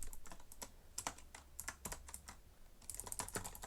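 Rapid C++ code typing on a computer keyboard, with close, crisp key clicks in irregular bursts and short pauses, and a denser flurry near the end; no voices.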